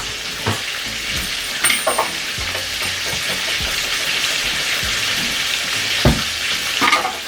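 Food fries in a pan with coconut milk on the stove, a steady close sizzle broken by occasional stirring clatter, with no talking.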